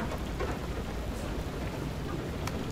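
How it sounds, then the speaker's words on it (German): Hail and stormy weather in the video game FAR: Lone Sails, a steady dense patter of hailstones and rain with a low rumbling wash underneath, continuous and fairly loud throughout, with no voices. "Hagelt weiter."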